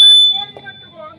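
An electronic buzzer at a live kabaddi match in Chhattisgarh signals the final four minutes, a loud sharp tone at the start that quickly fades as a commentator keeps talking.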